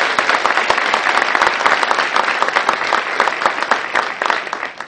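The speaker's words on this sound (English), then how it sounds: "So let's give her over a round of applause." A room full of people gives a warm round of applause at a United Way event, steady dense clapping that holds for several seconds at a fairly loud level, with no voices over it.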